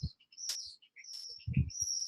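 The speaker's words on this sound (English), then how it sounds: "This beautiful bird just starts screaming in the background" A bird chirps and tweets loudly outdoors in bright, high, piercing bursts with short pauses between calls, alongside a few soft low bumps and no talking.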